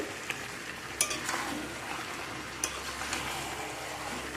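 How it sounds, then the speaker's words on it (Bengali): Chicken stir-fried with spices, a constant low sizzle broken by occasional scraping and clinking strokes of the spoon against the pan. "চিকেন সব একসাথে মশলার সাথে ভালো করে কষিয়ে নিব"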